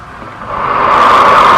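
Compressible fluid rushes into a small flow channel at its entrance, a steady broadband hiss that swells louder over the first second and then holds, with no voices.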